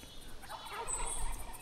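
A wild turkey gobbles in The Hunter hunting game, a short rattling call heard at moderate distance over a low ambient outdoor bed.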